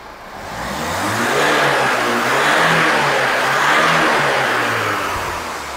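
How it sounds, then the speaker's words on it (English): Car engine with an intermittent fault being revved, rising to a loud, broad roar that holds steady for several seconds with a wavering pitch before easing back down. The engine is close and there is no speech. "I'll give it a rev now."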